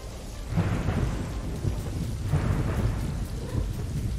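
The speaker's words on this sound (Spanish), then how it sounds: "Me gusta que arranca con un día de lluvia." Steady rain hisses beneath deep rolling rumbles of thunder that swell and fade in waves, with no voices, in the video game Stray.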